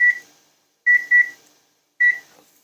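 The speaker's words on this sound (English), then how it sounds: "I'm going to set a timer" A kitchen timer being set while onions and garlic sauté: four short, loud electronic beeps in an irregular pattern, single, a quick pair, then one more, with silence between.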